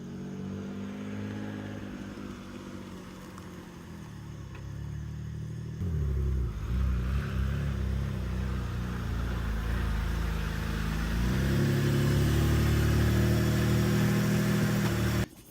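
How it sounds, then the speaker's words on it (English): A car's engine idles and then revs up as it pulls slowly into a home driveway ahead of preparation for the H2Oi car show, the rumble swelling louder and closer partway through and holding steady with no talk. "I'm going to bring the car up into the driveway now"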